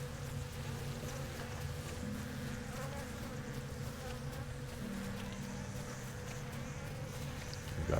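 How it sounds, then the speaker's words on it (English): Bees buzz around a hive being carried in the online game LOTRO, a constant insect drone with a steady background hum throughout. "you'll hear all the bees as well as see them buzzing around me."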